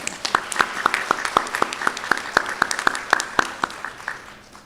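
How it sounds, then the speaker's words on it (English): Applause for a college board member from Floyd County at a practical nursing ceremony: a crowd's hand claps ring out as sharp, evenly spaced strikes, fairly close and steady, tapering slightly toward the end with no talk over it. "Let's give her a big round of applause"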